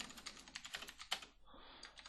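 Quick, light clicking of fingers typing on a computer keyboard, a rapid irregular patter of keystrokes close by with a brief pause.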